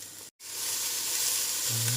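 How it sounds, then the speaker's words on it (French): Onions sautéing in a pan for ratatouille niçoise give a close, even sizzle with a brief dropout near the start, then a continuous hiss. "Donc faites bien revenir vos oignons."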